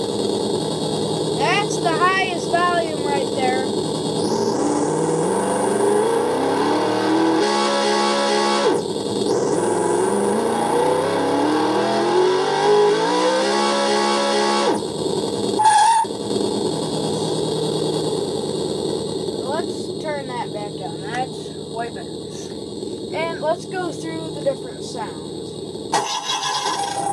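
A small RC car sound system at its highest volume plays a simulated semi truck engine, a loud continuous electronic rumble with rising and falling revs and a few sharp effect bursts, heard up close with someone talking over it.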